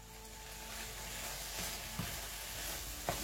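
Shrimp with sliced onion and bell pepper stir-frying in a non-stick pan for rice vermicelli: a faint, steady sizzle with a few soft stirring scrapes and clicks, no talking.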